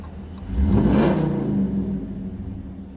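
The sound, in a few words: Dodge Charger R/T engine revving, heard from inside cab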